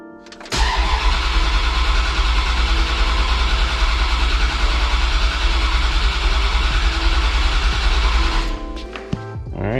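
A Dodge Dakota R/T with a 5.9L Magnum V8 is cranked on its starter. A loud, close, steady churning grind runs for about eight seconds, then stops.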